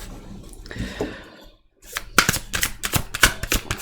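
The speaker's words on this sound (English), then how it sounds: "Oh, I'll shuffle them again." Tarot cards being reshuffled by hand: a soft rustle first, then a brief pause and a run of crisp, rapid riffling clicks close to the microphone, with no voices.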